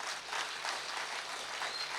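Applause from a lecture audience fills the whole stretch as a steady, even wash of many hands clapping together, moderately distant and uniform, with no speech over it.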